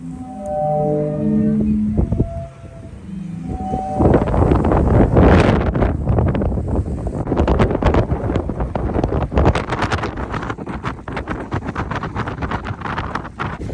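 Strong wind roars and gusts against the microphone by the sea in Croatia or Slovenia, after a few low, sustained tones that sound like pipes or horns.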